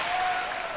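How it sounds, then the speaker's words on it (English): Short burst of applause from a high school graduation audience as a graduate's name is called in 2019, broad steady clapping filling the brief moment without voices. "please clap once after each name is said"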